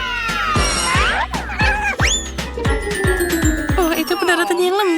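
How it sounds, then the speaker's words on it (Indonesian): A small stray kitten meows loudly and repeatedly in a kitchen, its rising and falling cries close and insistent over a steady series of sharp knocks and clatters. "Siapa yang membawamu kemari, kucing kecil?"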